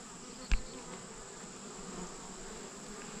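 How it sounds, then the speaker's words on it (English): Honey bees fly around cleaned honey supers set out near the hives, a soft steady hum of many wings with one sharp close buzz as a bee passes near, otherwise faint and even. "You can tell bees are leaving here"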